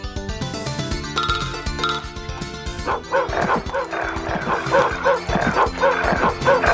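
A dog in the Rise of the Triad video game barks and chomps in quick snappy bursts over loud, steady game music, the chomps repeating rhythmically in the second half.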